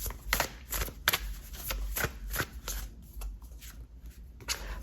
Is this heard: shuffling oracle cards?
yes